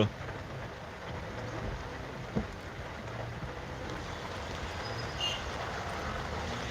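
Heavy monsoon rain falls in Pune during severe flooding. A steady, dense hiss of downpour continues throughout at moderate distance, with a faint low rumble underneath.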